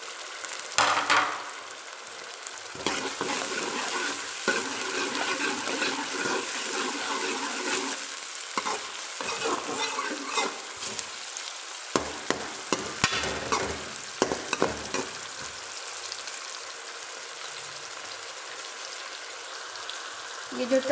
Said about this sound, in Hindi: ये जो टमाटर और प्याज हैं इनको हमने ज़रा अच्छे से गला लेना है, बिल्कुल ही इसका मसाला भून लेना है